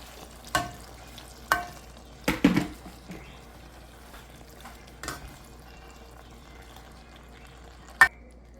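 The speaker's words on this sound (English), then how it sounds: "Now we add some hot water." Hot water is poured into a pan of cooked spicy pasta, giving several short bursts of sizzling and splashing with stirring between them, fairly close and alone, ending with one sharp clatter.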